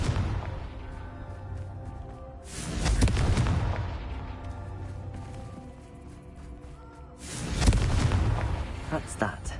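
Two booming fiery blasts from the Confringo spell in Hogwarts Legacy, each a loud burst with a long rumbling tail, spaced several seconds apart over a low game ambience.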